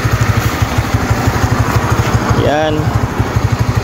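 A small 125 cc motor scooter idles close by with a steady, chugging putter while its engine warms up; a person briefly speaks over it.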